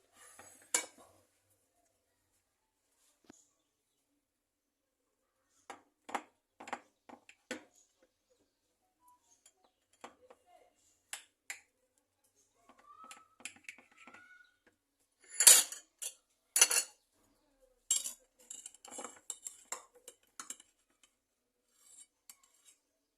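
A knife cuts through a moist carrot and coconut cake, giving scattered soft scrapes and clinks of the blade against a plate, with a denser burst of cutting sounds partway through and long quiet gaps between.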